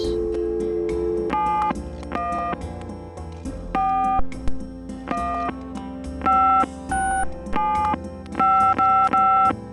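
Telephone dialing in the Gabriel Knight: Sins of the Father video game: a sequence of distinct touch-tone beeps in short bursts over a steady tone and background music.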